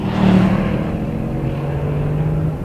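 A sports car's engine pulls hard on a race track, a loud, close roar that peaks early and then settles into a sustained, slowly rising drone, with no talking.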